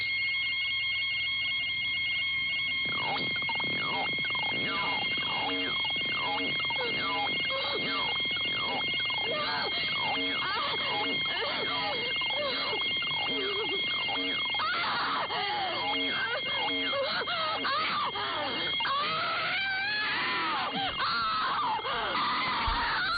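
An alarm clock rings continuously with a woman screaming over it in a classic horror film scene, the shrill ringing and wailing cries filling the whole stretch at steady loudness.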